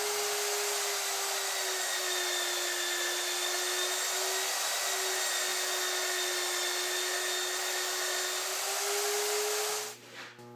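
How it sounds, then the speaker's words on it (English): A magnetic drill bores holes through steel for a log basket frame, giving a steady, loud whirring hiss with a constant motor whine for about ten seconds before winding down abruptly. "use my mag drill, blast through this thing real quick"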